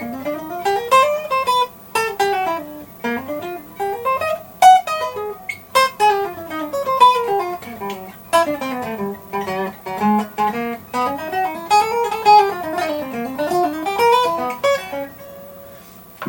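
A single-line solo melody, likely guitar, winds up and down over absent chord changes with no accompanying chords, notes bending and sliding in fluid runs with sparse picked attacks, moderately loud and alone.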